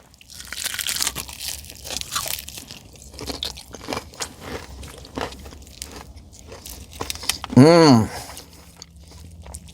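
Close, crisp crunching bites into KFC Original Recipe fried chicken, a flurry of brittle crackles over the first seconds, then a brief hummed voice near the end.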